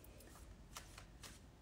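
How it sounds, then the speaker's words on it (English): A deck of tarot cards is shuffled by hand, giving soft, quiet riffling bursts with a few sharper flutters, close up and with no talking. "I'm just making sure I got them all shuffled up for you"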